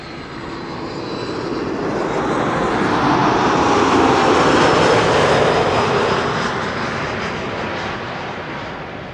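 A Boeing 737 roars steadily on landing, swelling louder in the middle as its thrust reversers build, then easing slightly, with broad rushing noise.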